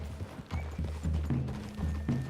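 Horse hooves clopping in Red Dead Redemption 2, a set of fairly close, uneven thuds from horses walking on ground, heard without talk.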